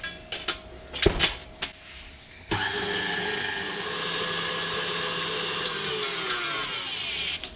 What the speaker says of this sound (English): into the bowl of my mixer goes my ghee and the sugar. And I'm going to beat this till it's nice and light and creamy